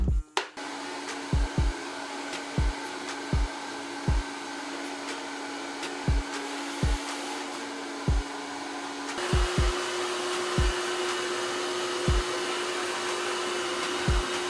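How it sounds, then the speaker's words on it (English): A hair dryer fitted with a nozzle blows with a steady whirring hum throughout, shifting pitch slightly partway, with occasional soft knocks and clicks as it moves. "now I'm going to go ahead and blow dry the hair in direction"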